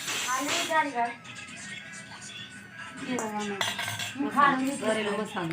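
A spoon clinks and scrapes in a bowl as bhajiya batter is mixed at home. The clattering strokes are close and irregular, and people talk over most of it.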